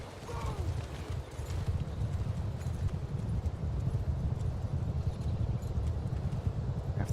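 Horse hooves clip-clop in a steady, brisk rhythm against a low rumbling background in a Total War game, continuous and fairly close, with a faint voice at the start.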